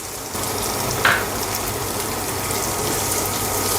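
Chopped onion and green chillies frying in oil in a pan for upma, a dense constant close sizzle with one brief sharper burst of crackle partway through and no talking.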